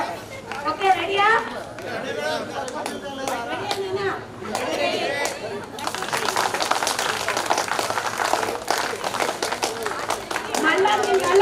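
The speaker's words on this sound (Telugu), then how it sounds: "Cheer clap, cheer clap." A standing group at a get-together breaks into cheer claps: a burst of sharp, rhythmic group clapping after a stretch of people talking, with chatter continuing underneath.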